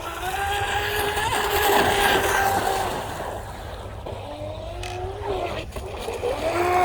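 RC boat with a Blackjack 24 ESC and stock 2000kv 3650 motor on 4S, its electric drive whining at shifting pitch as it runs across the water, moderately loud and steady with rising and falling tones, wind and water noise beneath.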